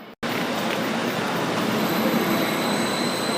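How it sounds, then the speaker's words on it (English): A westbound BRB regional train running between Munich and Salzburg rolls past with a steady, loud broadband rumble and high wheel squeal, continuous after a brief dropout at the start. "This westbound train between Munich and Salzburg comes out of Vienna."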